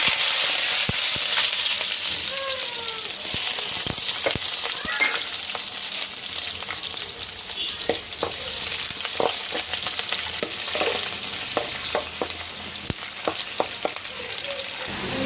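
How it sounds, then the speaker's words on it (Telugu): Onions, green chillies and curry leaves fry in hot oil in a pan for chicken gravy, giving a steady loud sizzle with scattered crackles and pops and occasional stirring scrapes throughout. "ఆయిల్ వేసుకొని ఇది వేడెక్కిన తర్వాత ఇప్పుడైతే మనము ఆనియన్స్, పచ్చిమిర్చి, కరివేపాకు అయితే వేసి"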